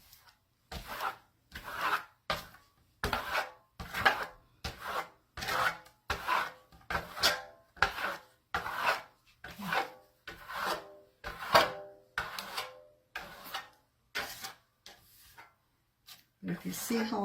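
A tool gouges Venetian plaster embossed through a stencil in a series of about sixteen rhythmic, close rasping scrapes, each stroke separated by a short pause.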